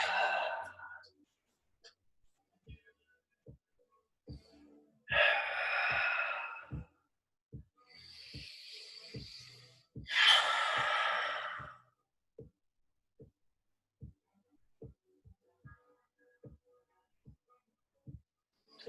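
Slow, deliberate breaths during an indoor pilates exercise, three long broadband breaths in and out spaced a few seconds apart, close to the mic, with faint regular ticking behind them.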